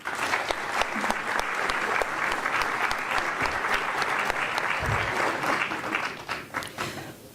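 A hall audience at a heraldry society's year-end ceremony applauds a commendator being honoured, sustained dense clapping that stays even and then thins out near the end.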